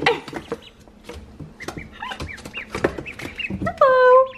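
Ducklings peep and chirp in small, high bursts among clicks and shuffling, with a voice speaking softly, and a longer, louder call closes the moment.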